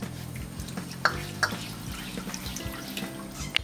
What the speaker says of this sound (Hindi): यहाँ पे मैं इसमें अब ये दूध डाल रही हूँ